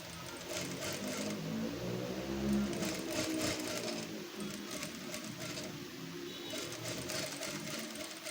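A sewing machine stitches a topstitch a quarter inch from the edge of a square neckline on fabric, running steadily and close throughout the stretch.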